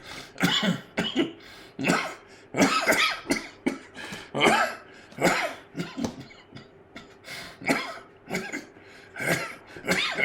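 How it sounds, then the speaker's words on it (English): Repeated harsh coughing and throat clearing in irregular bursts, close and fairly loud, continuing through most of the stretch with brief pauses between fits. "I was coughing a lot"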